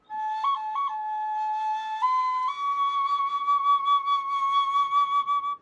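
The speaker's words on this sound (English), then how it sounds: "Flutes carved from bone." A breathy bone flute plays a few sustained notes with quick ornamental flicks, then steps up to a higher held tone, clear and alone.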